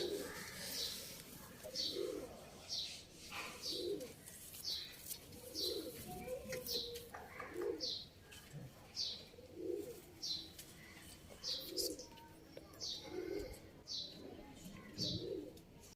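Pigeons in a breeder loft coo repeatedly in soft, rhythmic phrases, with light chirps and some wing flutters, fairly faint and close.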